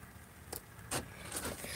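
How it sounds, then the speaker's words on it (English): A car is unlocked at a trucking depot with a brief jangle of keys, a couple of sharp chirps, and a clunk from the lock, heard close up against a quiet outdoor hiss with no talking. "Ah, unlock the car."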